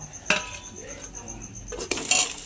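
A lid is set onto a frying pan on a gas stove, with a couple of sharp metallic clinks and a faint rattle against a soft background hum.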